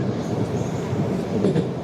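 Tashkent metro train running through a tunnel, a steady low rumble of the carriage heard from inside, brief and continuous.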